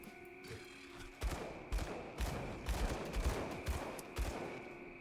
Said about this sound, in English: Stand in place and start shooting all around you.